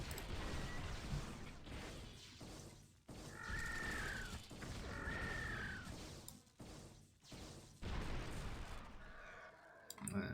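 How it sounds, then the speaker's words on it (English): Repeated cannon fire in the real-time strategy game Star Wars: Galactic Battlegrounds, a steady stream of booming impacts and mechanical clatter during a large battle against a base's defenses, loud and continuous with no talk. "And now the cannons chipping away."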